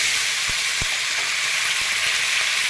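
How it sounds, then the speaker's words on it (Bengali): Steady hissing sizzle of ginger paste frying in a hot pan, with a few soft scraping knocks of stirring scattered through. "আদাটা একটু নাড়াচাড়া করে নিলাম।"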